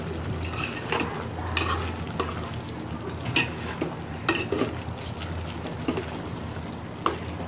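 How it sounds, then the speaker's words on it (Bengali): Curry is stirred in a pan, a spoon scraping and knocking against the metal in repeated strokes over a soft, continuous sizzle, with a few louder clanks standing out. "আবার একটু নেড়ে দিব।"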